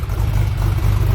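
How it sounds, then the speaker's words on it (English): A Ruf BTR, a modified Porsche 911 Turbo fitted with 935 cams, idles with a slightly lopey, uneven exhaust burble, a loud, close, low throbbing rumble that pulses steadily. "So it's got 935 cams in it. You got a slightly lopey idle."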